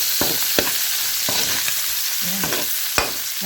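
Chopped onion leaves sauté in a pan, a steady loud sizzle of frying with occasional sharp clinks and scrapes of a utensil stirring against the pan, close up and without talk.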